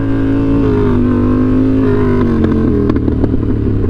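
A motorcycle engine drones loud and close during a power wheelie, its pitch sagging as throttle eases, then clattering and picking up again as the rider gets back on the gas.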